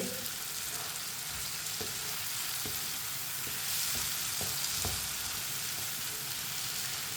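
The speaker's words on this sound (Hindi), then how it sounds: "अब इसे 2-3 मिनट के लिए भून लेंगे" Chopped bottle gourd (lauki) frying in a pan gives a faint, even sizzling hiss, with a few soft spoon taps now and then and no speech.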